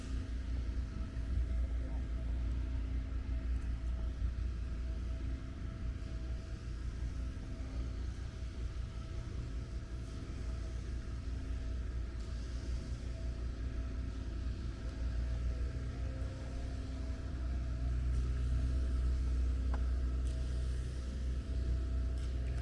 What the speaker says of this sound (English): There is a cement truck on my left.